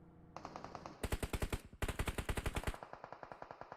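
AUG assault rifle fire in PUBG Mobile, rapid loud automatic bursts with sharp evenly spaced shots, two long volleys followed by a quieter trailing burst.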